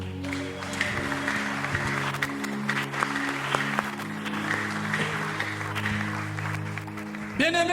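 Church congregation clapping in a steady rhythm under a sustained musical drone, with shouts in the room and a brief rising sound at the end.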